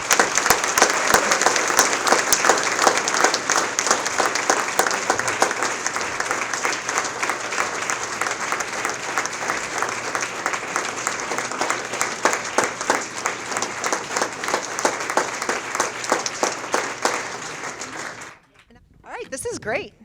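Sustained, dense applause from a large audience in a Chicago event hall welcoming Marc Benioff as International Executive of the Year, steady and loud for about eighteen seconds before cutting off abruptly.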